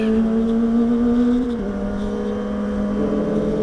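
Car engine pulling steadily under acceleration, a loud close drone that holds, briefly dips as the pitch shifts down, then carries on at a steady whirring note with no voices.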